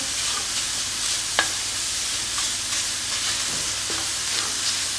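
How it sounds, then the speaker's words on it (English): Chorizo meat browning in a pan, with a steady close sizzle of frying and a few soft stirring scrapes across the whole stretch, no voices. "So you want to get it browned a little bit first."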